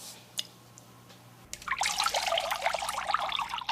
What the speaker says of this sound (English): Don't move, because I'm going to pour the water in.